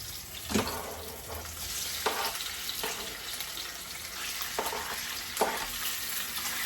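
Meat for banana-blossom adobo sizzles steadily in a pan, close and moderately loud, with a handful of sharp scraping stirs spaced a second or so apart.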